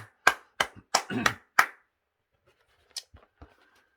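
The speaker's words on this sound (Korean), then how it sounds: "살아계신 하나님께 박수로 영광을 돌립니다" A church congregation claps hands in short bursts at a dawn worship service. Several loud, sharp clusters of claps come first, then a few fainter scattered claps follow before it goes quiet.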